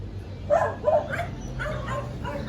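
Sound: dog barking

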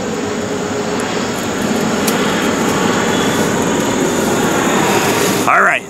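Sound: airplane flying overhead near an airport

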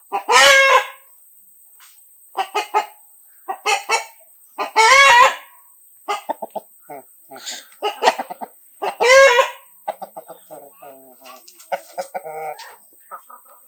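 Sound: Aseel rooster clucking and crowing

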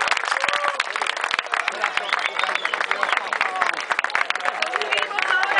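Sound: applause at a swimming marathon award ceremony

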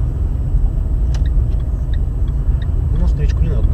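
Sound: car accelerating on the road

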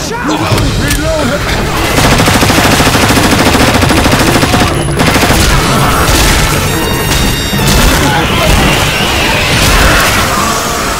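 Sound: gunfire from the video game Left 4 Dead

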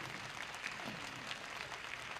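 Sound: audience applause

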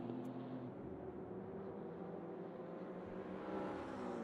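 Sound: GT3 race cars at full throttle at Road America, racing game

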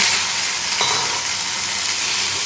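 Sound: okra frying in a pan

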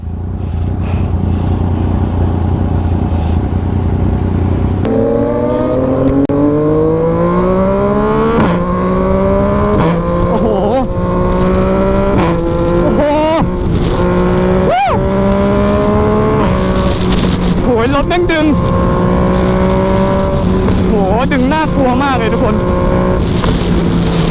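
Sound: motorcycle engine revving with quickshifter

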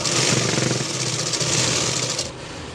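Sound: sewing machine stitching the edge of a jacket lining

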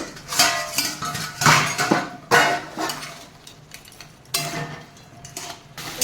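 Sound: opening the lid of a crab curry pot

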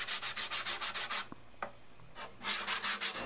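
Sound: sanding wooden guitar body

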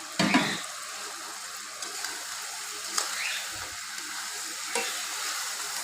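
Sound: fried koi fish added to spice masala in pan, stirred

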